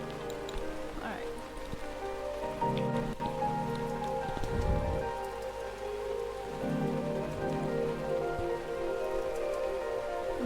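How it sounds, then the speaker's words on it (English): Heavy rain pours steadily in the background throughout while a person talks over it, with a few brief louder low-frequency bursts mixed in. "You can like only hear the rain sound."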